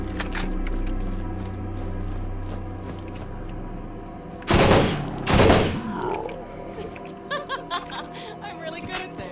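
A burst-fire gun in the video game Borderlands shoots zombies, two loud clustered bursts of rapid shots in the middle, followed by lighter scattered game effects, with a voice laughing at points.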